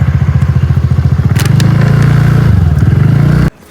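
A motorcycle is kick-started and catches, its engine settling into a loud, close, rapid thumping idle for about three seconds before it cuts off abruptly.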